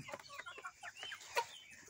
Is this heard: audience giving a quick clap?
no